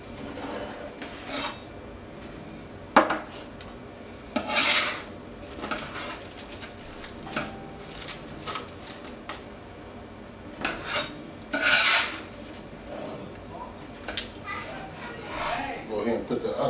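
A pizza pan handled in a home kitchen, with several scraping, rubbing and clattering metal bursts spread through the clip at close range, mixed with background voices.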